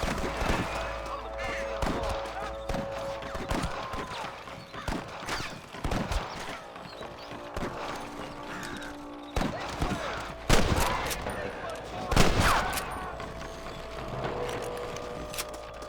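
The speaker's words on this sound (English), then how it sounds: "I can hear more gunshots." Gunfire erupts in a Red Dead Redemption shootout, scattered loud cracks and bursts at irregular intervals over a busy background, with voices speaking between the shots.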